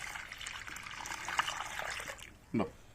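Rice water pours and trickles into a container nearby, a soft continuous splashing with a brief louder slosh near the end.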